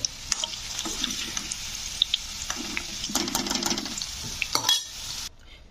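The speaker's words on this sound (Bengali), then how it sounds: "তো আমি এতে দুটো আলু নিয়ে ভেজে নিচ্ছি আলুটাকে" Two potatoes frying in oil in a pan, a steady close sizzle with scattered clinks and scrapes of a utensil stirring against the pan, ending in near silence.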